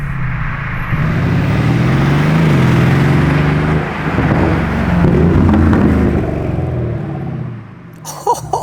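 A Lamborghini Urus SE engine revs loudly and continuously, a deep throaty roar rising and falling close by before easing off near the end.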